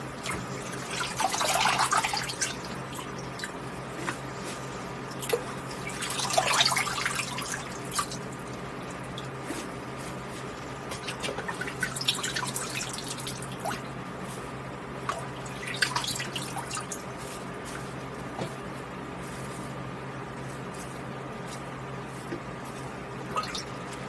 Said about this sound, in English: let some of that excess water drip out